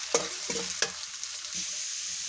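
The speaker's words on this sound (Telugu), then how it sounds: "ఒక 2 మీడియం సైజ్ ఉల్లిపాయలు, ఒక 4 పచ్చిమిరపకాయలు కట్ చేసేసి వేసేయండి. వేసేసేసి కొద్దిగా ఫ్రై అయితే చేసుకోండి." Sliced onions and green chillies fry in hot oil in a pan, with a few sharp scraping stirs and a steady soft sizzle close by.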